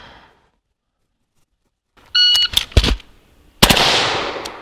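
An MK18 rifle fires controlled double taps outdoors, two sharp, loud cracks in quick succession after a beep, followed by a ringing, decaying burst of noise.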